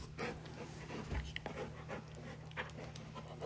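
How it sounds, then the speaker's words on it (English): A pet dog pants steadily and close by, rapid rhythmic breaths running through the whole stretch under a low steady hum, with faint whimpers between breaths. "Alrighty, that's the dog."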